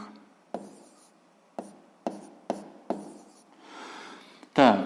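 Pen writing math notes on paper, a run of short, close, distinct strokes spaced about half a second apart, then a brief scribbling rub and a louder knock at the end.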